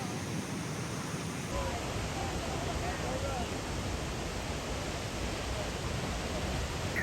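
Nevada Falls in Yosemite roars as a steady, broadband rush of falling water heard up close, a continuous wash of noise with no pauses.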